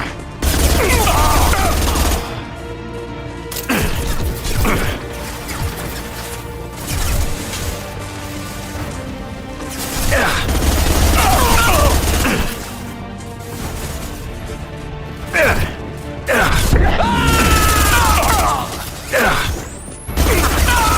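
Firefight gunfire in Mass Effect 2 Legendary Edition, with repeated bursts of shots and crashing impacts that come in waves over a game soundtrack, with occasional voices in the mix.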